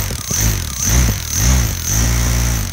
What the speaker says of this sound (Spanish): el alternador convertido en un motor